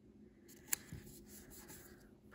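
Scissors snip through planner paper to trim off the weekend section, giving a single sharp cut followed by soft paper rustling and handling, close and quiet.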